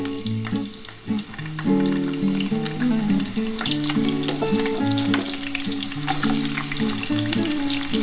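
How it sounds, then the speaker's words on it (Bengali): Radish, potato and beans sizzle in oil rendered from catla fish. A continuous crackling fry with occasional stirring scrapes runs under loud, melodic background music, with no talking. "এই তেলের মধ্যে আমি প্রথমে মূলো, আলু আর শিমটা আগে দিয়ে দিচ্ছি।"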